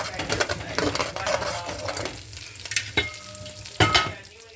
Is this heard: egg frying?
yes